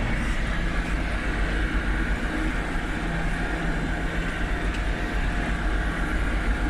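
A tractor pulls a Lemken Smaragd cultivator through a soybean field in spring, with a loud, steady engine rumble and broadband roar that holds level throughout, close and without speech.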